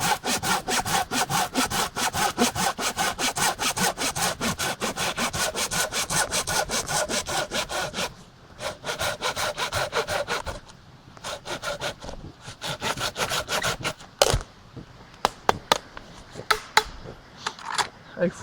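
A curved folding hand saw with dull, worn teeth cuts through wood outdoors at a bushcraft camp, fast rhythmic rasping strokes close up, then slower, broken strokes and a few final scrapes as the cut finishes.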